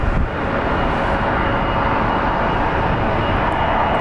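An Embraer 175 regional airliner on the runway at Phoenix Sky Harbor International Airport, its jet engines giving a loud, steady broadband roar that holds without a break.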